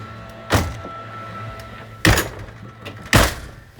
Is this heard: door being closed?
yes